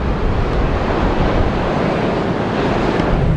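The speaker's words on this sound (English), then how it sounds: "Whoa! Look at that! Look at those waves!" Large Atlantic Ocean waves crash and roar continuously, loud and close, with heavy surf noise and wind buffeting the microphone throughout.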